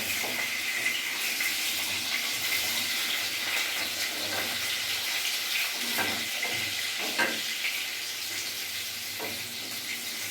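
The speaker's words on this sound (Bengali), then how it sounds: "পটলটা আমার ভাজা ভাজা হালকা বেশি ভাজতে হবে না, হালকা ভাজলেই হয়ে যাবে।" Pointed gourd (potol) frying lightly in oil, a loud continuous hiss of sizzling with occasional faint stirring knocks and no talking.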